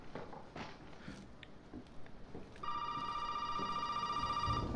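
A telephone rings inside the Resident Evil 7 video game, a steady multi-tone electronic ring starting partway through and continuing loudly to the end, following quieter ambient game sounds and faint footstep-like thuds.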